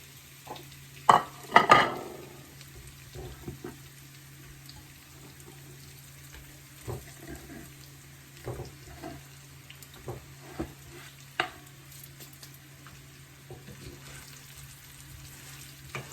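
Bottle gourd muthia dumplings go into a pan of hot oil with sesame and mustard seeds. A loud sizzling burst comes near the start, followed by scattered soft clicks and stirring noises over a quiet background.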